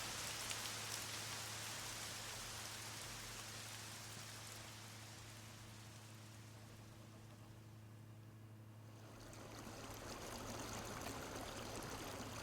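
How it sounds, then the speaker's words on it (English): Steady rain falls in the Lost Odyssey video game, a constant dense hiss of drops on surfaces that dips slightly midway before swelling again. "Oh, great. It's raining."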